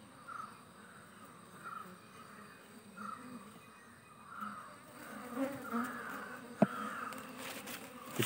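Honey bees buzzing around an open hive during honey harvesting, a continuous droning hum at low to moderate level, with a few louder passes near the microphone and a crow cawing faintly in the distance.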